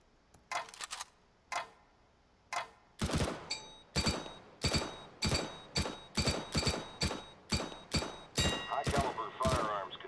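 Rifle fire from CSGO comes in short bursts at a target: a few spaced single shots, then a steady run of loud, evenly paced cracks with ringing metallic tails.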